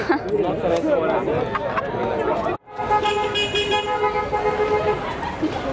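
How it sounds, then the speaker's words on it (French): Several car horns honk and blare together at a festival after fireworks, over a busy crowd with people chattering throughout; a brief dropout interrupts midway. "Il y avait genre plein d'autos qui klaxonnaient en même temps."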